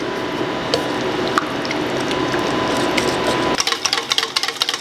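Muffin batter with yogurt being mixed in a bowl, a soft continuous wet stirring and squishing, then distinct sticky slaps and clicks toward the end, close with no talk.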